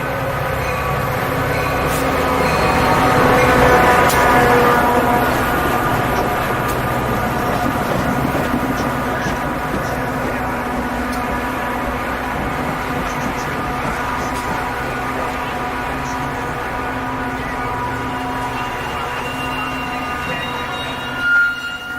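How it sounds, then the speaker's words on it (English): Metra commuter trains passing in Bellsboro, a steady loud rumble of rail cars and engine that swells early then holds, with a brief horn-like tone and distant noise throughout. "here's just some more footage of Metra trains, this time in Bellsboro."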